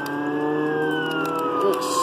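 A police car siren in the Jailbreak video game wails with a long, steady falling tone, loud and continuous under faint background game noise.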